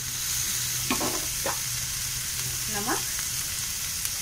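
Paneer bhurji mixture with spices sizzling and being stirred in a pan, a steady broadband frying hiss with a few scraping stirs; a voice speaks briefly over it.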